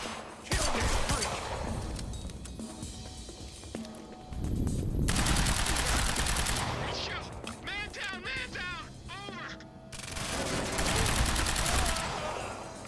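Gunfire in the action game Quantum Break, bursts of rapid automatic shots and single cracks broken by short pauses, with shouting voices heard between and under the shooting.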